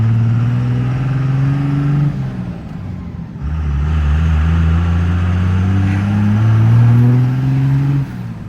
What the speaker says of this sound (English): P-Pump 24 valves just sound different